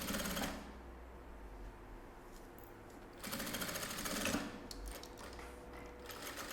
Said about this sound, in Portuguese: Passo uma costurinha, já prendendo